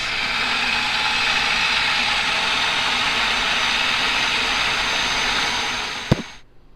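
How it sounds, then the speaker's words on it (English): A food processor purees stewed tomatoes for marinara sauce, its motor giving a loud, steady whirring drone that runs for about six seconds before cutting off with a click and a brief wind-down. "I'm going to put this in my food processor, and I'm going to puree it down to make a sauce"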